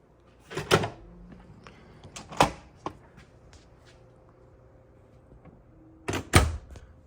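A man door fitted with a magnetic security contact is opened and shut, giving several solid thumps and rattles spread apart, with quiet shuffling between them.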